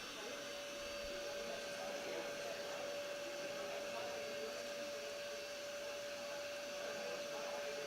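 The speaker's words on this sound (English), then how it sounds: "They're just giving a quick vacuum now on the platform." A vacuum cleaner runs on the lifting platform at a world sub-junior and junior powerlifting championship, giving a steady, unbroken whining drone with a fixed tonal hum throughout, set against faint arena background.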